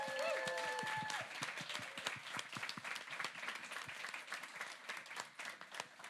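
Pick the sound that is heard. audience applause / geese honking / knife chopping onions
audience applause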